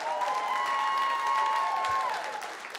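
Crowd applause and cheering at a stand-up comedy show in a club, steady clapping under a held tone that fades toward the end.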